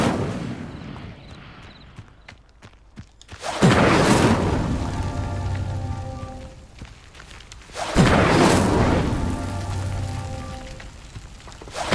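Incendio fire spell lighting pyres in Hogwarts Legacy, two loud whooshing bursts of flame that flare up suddenly and roar on for several seconds each before fading, with no talking.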